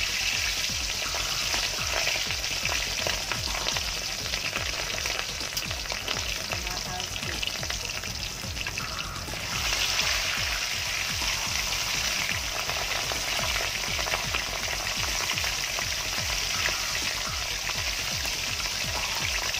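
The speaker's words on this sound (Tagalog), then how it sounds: "mainit siya para hindi didikit ang ating isda sa pagpiprito" Fish sizzling steadily in hot oil in a pan, a dense, continuous crackle and spatter that stays close and even.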